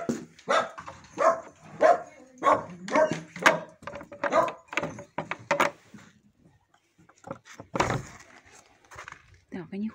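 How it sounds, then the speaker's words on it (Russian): Two dogs bark near a duck and chicken yard, loud repeated barks with yips, then a pause and a few final barks, while someone speaks now and then. "Вот эти двое собачат."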